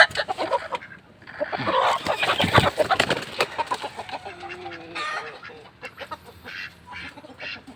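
Game fowl chickens clucking and calling among ducks on a farm, a busy run of close, irregular clucks and squawks with a few brief louder calls.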